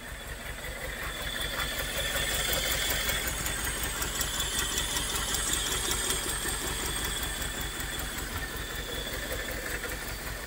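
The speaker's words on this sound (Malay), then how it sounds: "Enjin sudah hidup guys." Proton Wira with a 4G15 turbo engine and Waja crank, freshly revived after sitting two to three years, idling steadily with a loud, even mechanical drone and no voices.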